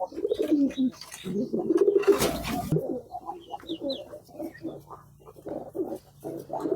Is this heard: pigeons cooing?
yes